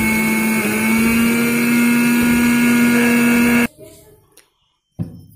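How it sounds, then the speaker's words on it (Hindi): A mixer grinder pulverizes flattened rice (poha) into flour with a loud, steady whirring motor drone that runs for several seconds, then cuts off abruptly, followed by a brief clatter. "इन पोहों को हम मिक्सी में डालकर ग्राइंड करेंगे, यानी कि पोहों का आटा बनाएंगे"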